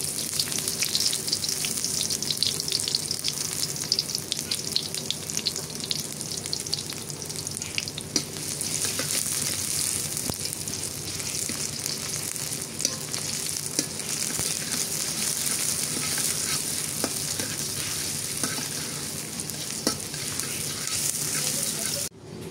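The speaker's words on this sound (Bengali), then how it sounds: "পেঁয়াজ কুচি দিয়ে দিলাম।" Chopped onions frying in a pan with some water, a steady close sizzle and bubbling hiss that stays even for over twenty seconds, with faint occasional stirring clicks.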